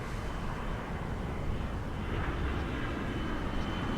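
A continuous low roar of an airplane passing overhead, steady and moderately distant, with no talking.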